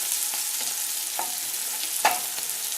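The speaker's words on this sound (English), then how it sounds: "And I'll let the onions sweat a bit." Onions sweat quietly in oil in a pan, a soft, even sizzle with a few faint utensil taps, fairly low in level and without voices.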